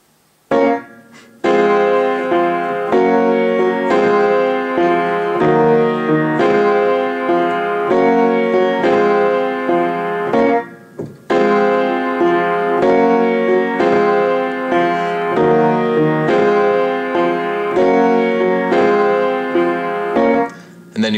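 Piano plays a full chorus passage with rhythmic chords and a steady melody, loud and close, briefly pausing twice before resuming.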